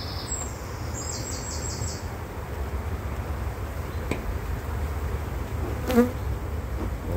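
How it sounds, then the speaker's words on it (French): Many honeybees drone in a steady, dense buzz close by around a hive in spring, with a few birds calling faintly in the background. "il y a vraiment beaucoup d'abeilles"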